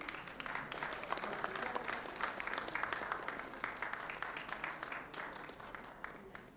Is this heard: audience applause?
yes